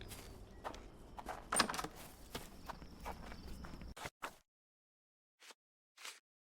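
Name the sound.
horse in Sherlock Holmes The Awakened video game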